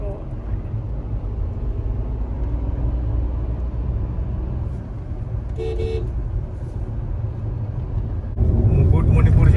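A car cruising along a forest road through Jaipur forest produces a continuous engine and tyre rumble that swells louder toward the end, with a short horn-like toot midway and people talking inside.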